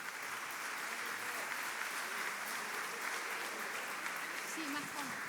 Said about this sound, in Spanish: Para todos les pedimos un aplauso muy grande